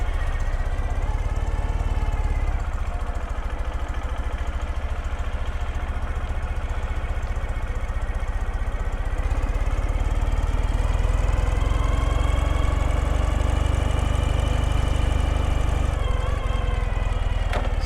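A 2013 Ural Retro motorcycle engine running steadily in first gear, a loud close continuous thrum with a slight rise in revs midway, no voices.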